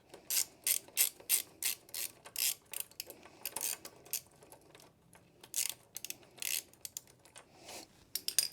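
A ratchet tightens a nylock nut on an Evotech front axle slider for a Yamaha MT-10 motorcycle, giving close, loud bursts of rapid clicking in an irregular rhythm with short pauses between strokes.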